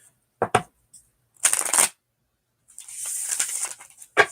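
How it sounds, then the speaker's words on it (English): A deck of cards is shuffled close up in quick bursts: sharp riffling flutters, a longer whirring cascade, and a final snap as the cards are squared. "that was a good shuffle"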